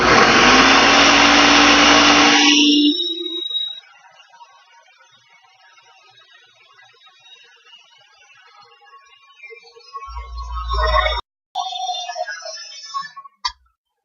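A blender churns frozen banana into nice cream, roaring loudly for about three seconds before cutting out, followed by a long quiet stretch and then a second short, loud burst of blending near the end.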